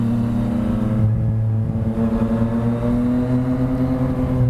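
A Yamaha FZ-09 motorcycle rides along with its engine droning steadily and rising in pitch as it accelerates, loud and close with a brief dip midway.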